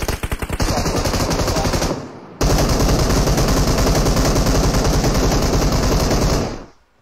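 Bursts of rapid automatic gunfire in a shooter game play loud and close, with a short pause before a long unbroken volley that cuts off sharply.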